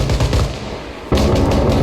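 Gunfire in the military game Arma Reforger: a loud burst of rapid shots followed by a sudden heavier blast or volley at close range, with no talking.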